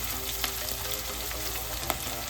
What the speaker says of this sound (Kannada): ಈ ಹಸಿಮೆಣಸಿನ್ಕಾಯಿ ಕೂಡ ಒಗ್ಗರಣೆಯಲ್ಲಿ ಫ್ರೈ ಆಗಬೇಕು